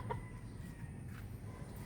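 A hen gives a couple of short clucks near the start, then soft fowl noises over a quiet barnyard background.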